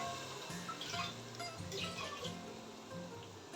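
Water poured into a pot of rice for mutton biryani, a faint, continuous splashing and trickling with small drips at close range.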